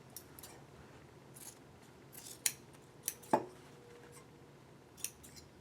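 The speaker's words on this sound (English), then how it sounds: "let me just trim." Scissors snip through fabric ribbon in a quiet room, a few sparse, crisp cuts spaced out over several seconds with one sharper snap in the middle, no talking.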